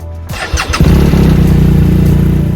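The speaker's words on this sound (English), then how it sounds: "So let's get this bike started and get out of here." A BMW bagger motorcycle starts up: a brief starter whir, then the engine catches with a loud bark and settles into a close, steady, rumbling idle.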